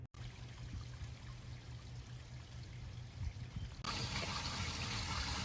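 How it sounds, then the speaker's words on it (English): Water runs into an RV black tank to backfill it while the dump valve is shut, a faint steady pouring and trickling that suddenly grows louder and fuller near the end. "I've got this valve shut and I have the water on, and so what it's doing is it's backfilling the black tank again."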